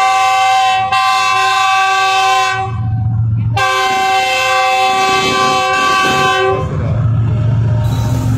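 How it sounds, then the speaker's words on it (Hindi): Khyber Mail express train pulling out of Machi Goth railway station, its horn blaring loudly in long sustained blasts over a rumbling, clattering locomotive and wagons close by. "वन ऑफ खैबर मेल माची रोड से डिपार्चर हो रही है 9010 के साथ"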